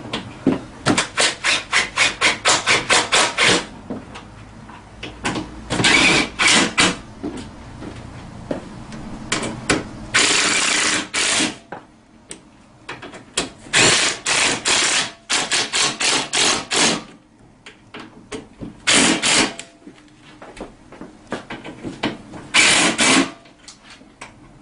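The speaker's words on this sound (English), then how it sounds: "Now I'm going to go ahead and just start ratcheting them down." A ratchet wrench tightens bolts during assembly of a Tao Tao CY50D scooter, with rapid clicking runs in bursts separated by short pauses and some scraping and handling noise, close and fairly loud.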